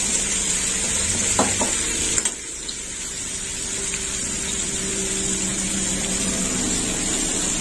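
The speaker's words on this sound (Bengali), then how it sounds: "হলুদটা একটু তেলে ভাজা হোক" Turmeric powder frying in hot oil in a pan for a greens chorchori, a steady close sizzle running throughout with a brief clatter of stirring near the start.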